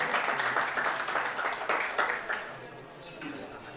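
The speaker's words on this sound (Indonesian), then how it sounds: "Beri tepuk tangan untuk tipe 6565." Audience applause at a family gathering and property prize event, clapping that fades after a few seconds into quieter room noise.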